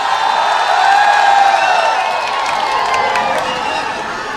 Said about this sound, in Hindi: पुरजोर तालियों में आपके हवाले।